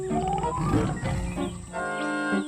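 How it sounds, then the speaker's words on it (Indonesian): A tiger roars in a children's animated story, a loud growling cry that rises and falls over about two seconds, with no one talking over it. "harimau yang sedari tadi mengejar Kancil telah sampai ke tempat kerbau"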